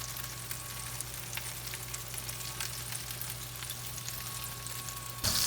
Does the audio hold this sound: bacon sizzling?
yes